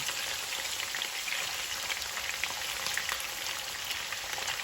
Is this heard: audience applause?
no